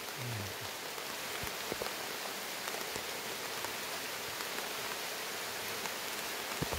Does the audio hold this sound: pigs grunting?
no